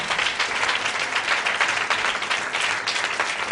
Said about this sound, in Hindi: जोरदार ताली बजाकर परमेश्वर का धन्यवाद करें।